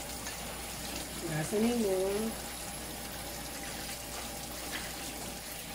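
Tap water runs from a kitchen faucet while adobo is being prepared, a steady moderate hiss throughout, briefly overlapped by someone speaking.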